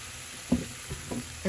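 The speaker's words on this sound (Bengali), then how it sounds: "ঢেকে দিয়ে তিন মিনিট মশলাগুলো ফ্রাই করব" Spices fry on medium heat in a covered pan for a shrimp, tomato and butternut squash curry, giving a soft, steady sizzle with a few light knocks. No one speaks.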